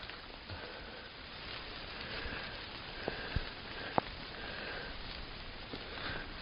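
Steady rain hisses in a constant wash, with a few sharper drips and taps standing out here and there.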